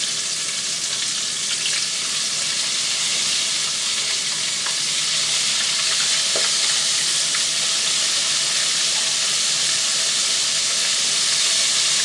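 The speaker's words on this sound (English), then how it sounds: "I'm going to start dropping them in the fryer" Breaded oysters fry in a deep fryer, giving a dense, constant hiss and sizzle of bubbling oil that stays loud and close with no voices.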